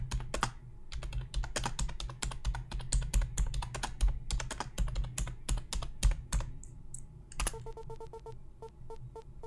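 Fast, irregular typing on a computer keyboard during a game, dense clicks close by that slow into a few separate key presses near the end, with no voices.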